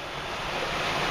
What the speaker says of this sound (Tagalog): andito na kami sa umaagos. Dumadaloy na tubig.